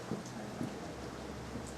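Steady rain falls at an outdoor public gathering in Khajiar, Chamba, a soft, even hiss of drops with a few faint patters, heard alone and at low volume.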